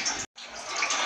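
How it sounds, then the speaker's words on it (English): Soapy water drains from a Ramtons 10kg single-tub washing machine, a steady hissing rush of water that cuts out for a moment and then resumes, moderately loud and close. "So all the soapy water is drained out."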